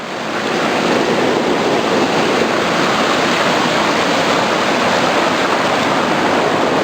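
Water rushes steadily through Dry Creek on a hiking trail, a dense, loud, close roar of flowing stream without pause, rising in at the start and holding constant throughout.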